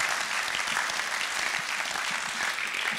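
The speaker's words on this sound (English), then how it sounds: "Can we have a round of applause for everyone that's spoken today?" Sustained applause from the audience at the Like Minds 2017 conference in Exeter: a steady wash of clapping from many hands at a moderate level, with no voices.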